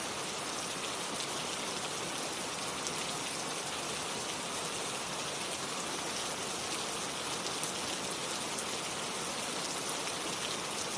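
Steady rain falls on surfaces, a dense, even hiss with scattered droplet patter, continuous and unbroken with no voices.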